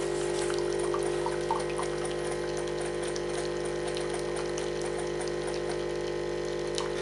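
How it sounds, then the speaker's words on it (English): A Nespresso by Krups CitiZ milk and coffee machine hums and pumps steadily while liquid pours, a constant mechanical drone with a faint watery trickle, close and alone. "the milk does take longer than the actual coffee does to pour, so I always like to start the milk off first."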